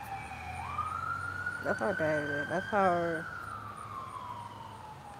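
A siren wails outside in a rising sustained tone that swells and falls with a brief warbling burst, heard at moderate distance behind a person talking; the tone suggests an ambulance.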